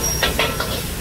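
Meat sautéing in a pan for pancit: a steady, loud hiss of frying with a few brief crackling bursts, no voices.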